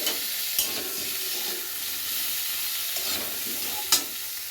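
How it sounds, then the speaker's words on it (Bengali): Cauliflower frying in a pan, a steady close sizzle and hiss with a few sharp clinks of a spoon stirring against the pan, no talking. "ফুলকপিটা একটু ভালো করে ভেজে নিই"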